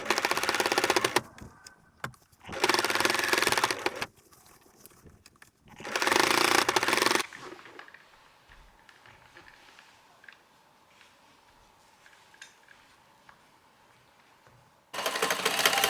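A sewing machine stitches the hem of a handmade suit in three loud, close bursts of rapid mechanical whirring and clatter separated by quiet pauses, followed by a long stretch of faint handling sounds before another run begins.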